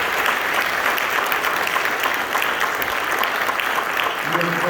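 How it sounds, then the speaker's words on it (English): Sustained audience applause at a Veterans Day celebration, dense and steady throughout, with a few voices faintly mixed in. "you all deserve a huge, huge round of applause"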